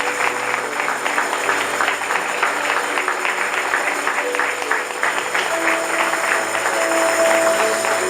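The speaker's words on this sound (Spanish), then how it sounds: "Alguien tiene que aplaudir a mí." An audience applauds at a church sermon, a dense, continuous clapping that stays loud and even for the full stretch without breaking.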